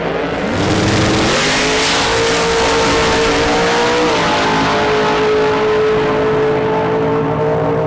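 A Nissan GTR makes a drag racing pass, its engine roaring loud and continuous with rising revs and gear changes, sustained throughout with no voices.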